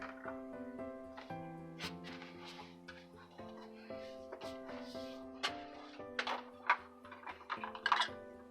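A cutting machine loads its cutting mat, its small motor stepping through a series of tonal whirring pitches mixed with soft clicks and thunks, close and fairly quiet.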